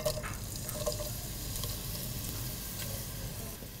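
Chopped onion sizzles steadily in a little hot oil for pulao, a dense continuous crackling fry close up with occasional stirring scrapes and no talk.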